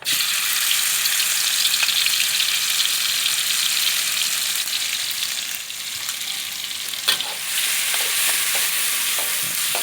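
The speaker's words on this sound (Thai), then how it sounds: "เริ่มใส่ตั้งแต่พริกกระเทียมที่ ตำโขลกไว้นะครับ" Pounded chili and garlic stir-frying in a hot pan for Thai basil minced pork, a steady loud sizzle with occasional spatula scrapes, no talking.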